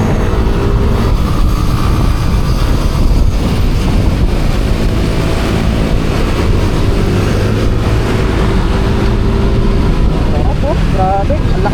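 A Yamaha Aerox V3 scooter engine pulls hard under acceleration, a loud, close, continuous drone mixed with wind rush, with a brief rising whine near the end.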